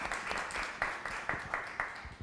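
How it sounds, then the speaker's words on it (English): Audience applause at the close of a lecture on textile design and colour: a steady, dense wash of many hands clapping, heard from a moderate distance, with a few sharper individual claps poking through and no talk over it. "a round of applause for Vanessa"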